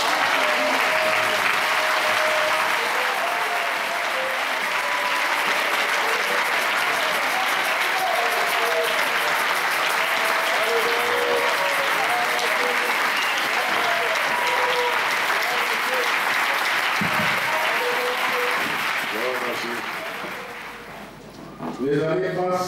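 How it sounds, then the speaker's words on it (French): A church congregation at an evangelical service claps loudly and steadily for about twenty seconds, with voices mixed into the applause before it fades out near the end. "Est-ce qu'on peut l'acclamer?"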